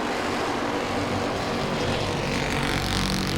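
Super Street race cars at Langley Speedway give a loud, continuous engine roar that holds steady for the whole few seconds with no pauses.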